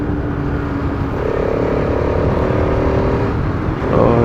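A Bajaj Pulsar RS200 motorcycle on a solo morning ride, its engine droning steadily with a rising whirring tone as it accelerates, loud and close with wind rush underneath.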